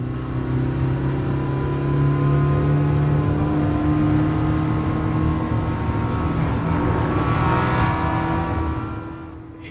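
Diesel car engine in the Gran Turismo Sport racing game, climbing a hill during a race: a loud, steady, unbroken engine drone holds throughout and eases slightly at the very end, with no talking.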